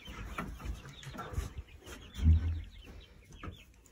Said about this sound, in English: And see our big chickens. These are our hens.